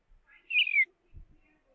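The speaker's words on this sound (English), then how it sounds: "so the bird sound will be played until done" Bird sound effect played in a Scratch program: a single short, clear whistled chirp that sweeps downward, followed by a faint low thump, otherwise quiet.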